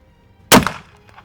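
A single sharp rifle shot from a .300 Blackout firing a Hornady Sub X round, loud and close with a brief decaying tail, then quiet.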